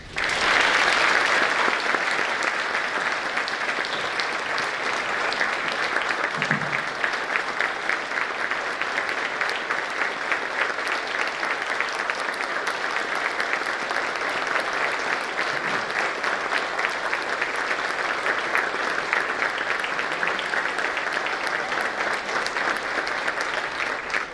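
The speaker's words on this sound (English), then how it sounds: "I'd ask you to join me in giving a great round of applause for Anne-Marie Schubert" Sustained applause from an audience at a public safety and community appreciation luncheon, steady and dense from start to finish with no pauses.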